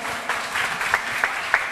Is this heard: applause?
yes